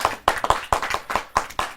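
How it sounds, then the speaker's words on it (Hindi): Audience at a Hindi kavi sammelan poetry gathering claps in sharp, distinct hand strikes, a loose rhythmic run of separate claps rather than a dense roar, moderately close. "जोरदार ताली के साथ।"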